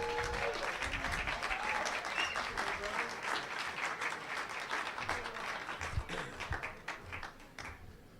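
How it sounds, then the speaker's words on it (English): Audience applause greets Rep. John Conyers, the chairman, at a 2008 Democratic gala evening event, sustained dense clapping from a sizeable crowd filling the room at steady loudness before tapering slightly at the end. "You can give him a hand."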